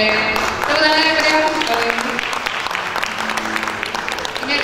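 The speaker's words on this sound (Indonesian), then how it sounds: "Tepuk tangannya mungkin sekali lagi Bapak Ibu" An audience at a parents gathering claps together, a dense, loud burst of applause that holds and then tapers slightly, while a speaker's voice rises over the crowd.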